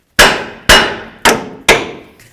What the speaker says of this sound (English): use a hammer right along the knuckle right here